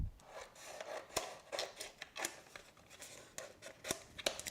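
Cut adhesive vinyl is peeled off a cutting mat, giving soft, close rustling and crackling with small sharp pops as the material lifts away.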